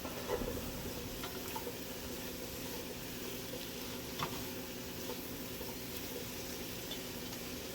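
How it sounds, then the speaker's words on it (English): Three medium celery sticks sizzle in hot oil in a soup pot, a quiet, even frying hiss that runs steadily throughout with only a couple of faint stirring bumps. "Now this is 3 medium-sized sticks of celery. I'm going to add that to the pot."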